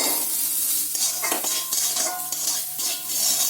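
Pistachios and almonds fry on a low flame, with a soft sizzle and repeated spoon scrapes and clinks against the pan as they are stirred.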